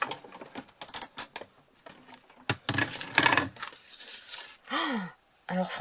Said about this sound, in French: moi, je fais le test avec ma machine de, ma machine de découpe qui est la Mademoiselle Toga. Voilà, donc je vais passer ça dans la machine.